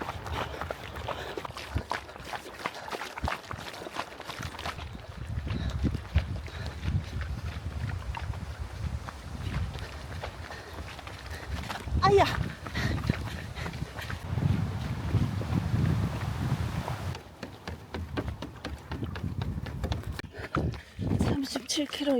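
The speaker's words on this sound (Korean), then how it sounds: "시원하게 바람이 불고 있습니다" Wind gusts across a mountain trail during a 50 km trail run near Busan, buffeting the microphone with a low, rumbling roar that swells and fades, while a runner talks intermittently.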